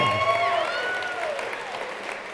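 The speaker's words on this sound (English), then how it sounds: "Let's clap for that." An audience claps for a mountaineer and ski descender during a talk, a short burst of steady, dense applause from a crowd indoors.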